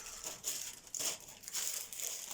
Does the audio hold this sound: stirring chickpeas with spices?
no